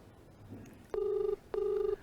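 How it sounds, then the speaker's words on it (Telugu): A telephone rings twice, two short electronic ring bursts with a clear pause between them, fairly quiet and with no talking. "ఫోన్ రింగ్ అవుతుంది"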